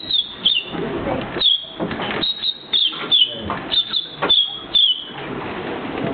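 A man whistles an imitation of a house sparrow, a string of short high chirps and cheeps in irregular bursts with brief gaps, close and clear with no talking.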